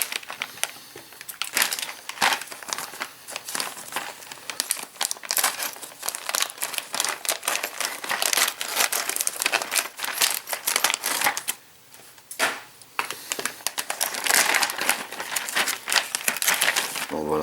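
Plastic and cellophane packaging of an Eaglemoss 1/8 scale Ecto-1 model kit being torn open, loud dense crinkling and crackling close up, continuous with brief pauses, no talking.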